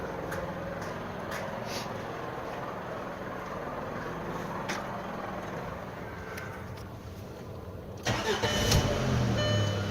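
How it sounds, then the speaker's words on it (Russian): A VW Passat B5 engine is started after alternator brush repair, with steady background noise before the engine fires near the end and settles into a mid-pitched idle. "Запустим мотор."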